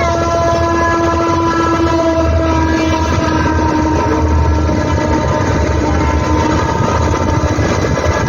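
A train crossing a bridge over the Godavari river, heard from a boat below. A loud, continuous heavy rumble of wheels and cars carries sustained horn tones throughout.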